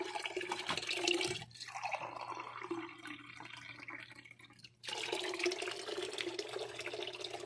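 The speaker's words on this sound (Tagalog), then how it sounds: "Lalagay po natin sa baso." Filtered water from a homemade DIY filter runs steadily into a glass, a continuous close liquid pour that breaks off briefly midway and then resumes.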